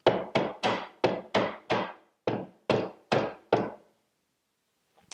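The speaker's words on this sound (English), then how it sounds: "So I'm going to take my dead blow hammer" A dead blow hammer taps a wooden rail to nudge it up while fitting angled tenons, nine sharp close thuds in an even rhythm, then silence apart from a faint final knock.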